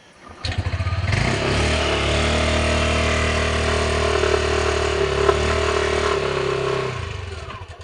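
Motorcycle with a fault that refuses to move forward, engine starting and running: a loud, steady throbbing drone that kicks in after half a second, holds evenly for several seconds, then dies away near the end.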